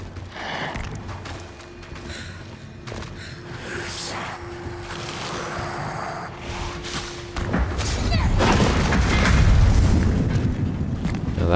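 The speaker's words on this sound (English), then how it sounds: "Now that's an epic explosion." A big video game explosion near a canal: a deep rolling boom swells late and sustains loudly, preceded by quieter ambient tones and thumps.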